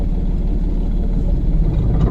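A car engine runs with a low, steady rumble while the clutch is released during a driving lesson. Its note wavers slightly, heard close and continuous with no talking.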